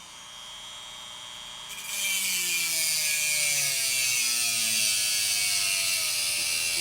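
A small rotary cutting tool trims the motor shaft of an N scale 0-4-0 Rivarossi locomotive with a Rivarossi motor replacement, starting with a low hum then shifting into a loud, steady high-pitched whine and grind, close up.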